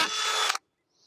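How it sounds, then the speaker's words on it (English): A power drill bores a test hole in a piece of wood with a loud, close half-second whir that cuts off abruptly into silence. "I have a test piece of wood here, and I want to make sure that I have the right size drill bit"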